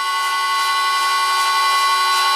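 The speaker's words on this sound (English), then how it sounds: "Maybe the drill bit is dull." Drill bit boring into a worn lathe tailstock with an MT2 taper, a steady high-pitched whining grind held close and loud for the whole stretch without a break.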